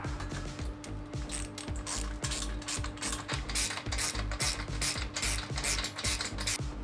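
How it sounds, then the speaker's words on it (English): Rapid, steady clicking of a ratchet wrench tightening bolts on SW Motorsport seat base sliders, close and loud with repeated pawl ticks throughout and no talking. "just going to nip the bolts up until they're almost tight."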